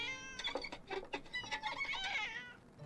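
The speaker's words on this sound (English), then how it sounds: "Cat and violin." In Great Ace Attorney 2, a cat meows repeatedly and insistently over strained, wavering violin notes, a close, moderately loud string of yowls with no talk.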